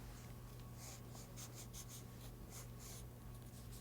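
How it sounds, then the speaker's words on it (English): A pen scratching and scribbling across paper, drawing in quick rhythmic strokes with a constant low hum underneath and no voices. "so that I can draw this relatively quickly"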